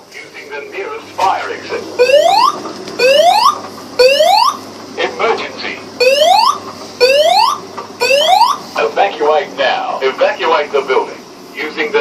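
Building fire alarm sounding during a zone test of the alarm system, with loud repeating rising sweep tones in regular bursts, broken by spoken evacuation announcements and a person talking nearby.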